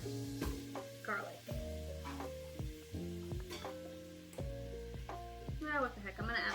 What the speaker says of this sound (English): And now we're gonna add our onions and our garlic.